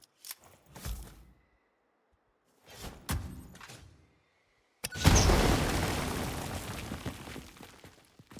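A small explosion in the video game Satisfactory erupts as a sudden loud boom that decays into a long rumbling roar, preceded by a few short, scattered game sounds separated by silence.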